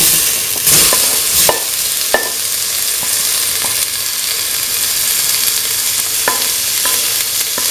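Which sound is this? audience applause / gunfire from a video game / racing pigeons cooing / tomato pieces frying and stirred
tomato pieces frying and stirred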